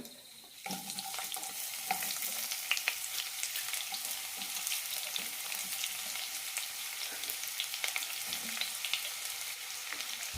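Sliced onions sizzle and fry steadily in a little hot oil with cloves, cardamom, cinnamon, star anise and shahi jeera for an onion kurma curry, with occasional stirring clinks over a continuous close crackle.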